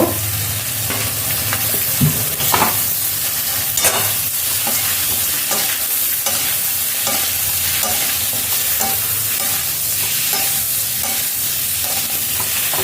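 Vegetables frying in a pan for a village-style Chittagong rohu fish curry, with a steady, loud sizzle and crackle and repeated scraping stirs throughout.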